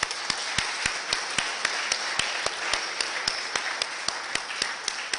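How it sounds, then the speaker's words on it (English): Applause from a lecture audience, a dense steady wash of many hands with sharper individual claps popping out at a regular pace over it, sustained throughout. "And let's give another round of applause."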